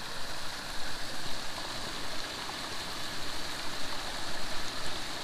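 Running water trickling through a dried-out old beaver dam outdoors, a steady soft rushing and splashing hiss with no voices.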